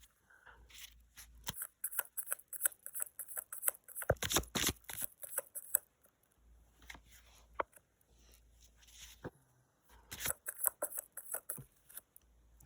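Tarot cards being shuffled and pulled from the deck for a love reading, giving bursts of crisp riffling and soft slapping in several separate rounds, close and fairly quiet, with brief pauses between them.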